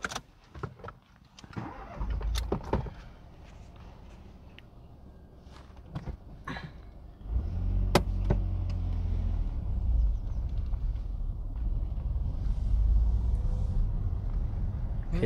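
A learner driver's car pulls away at the start of a UK mock driving test, the engine note rising to a steady, close low rumble after a few quiet seconds of faint cabin shuffling.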